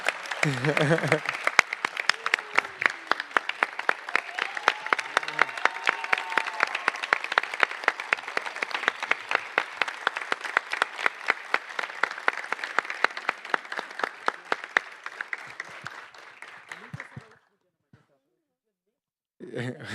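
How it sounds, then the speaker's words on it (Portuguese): An audience in a legislative chamber's solemn session applauds a judge, with close, crisp clapping that stays steady and dense for about seventeen seconds before stopping abruptly into near silence. "eu também queria pedir uma homenagem, uma salva de palmas"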